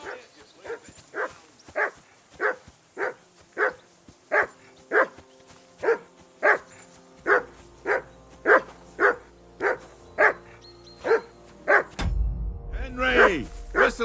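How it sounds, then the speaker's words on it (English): A dog in Kingdom Come Deliverance 2 barks again and again in an even rhythm, about twenty sharp barks, close and clear, followed by a burst of louder, rougher noise at the very end. "Whistle at that mutt of yours to stop barking."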